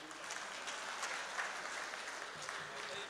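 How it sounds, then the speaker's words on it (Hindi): An audience at a mushaira, an Urdu poetry gathering, applauds with soft, steady clapping that sounds fairly distant and quiet. "ताली बजाइए"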